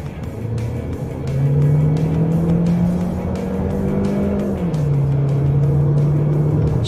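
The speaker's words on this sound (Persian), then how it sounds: "سراغ شتابگیری خودرو. شتاب ماشین واقعا جذابه." A car accelerates hard, its engine note climbing steadily in pitch, dropping briefly at a gear change near the five-second mark, then rising again; loud, close and continuous, with no talking.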